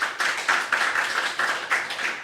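A church congregation claps during a Sunday worship service, producing a series of distinct, fairly loud bursts of handclaps in an uneven rhythm with no talking over them.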